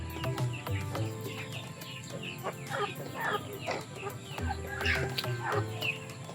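Free-range chickens in a coop cluck and chatter in a steady, close, fairly soft stream of short calls, with several birds overlapping.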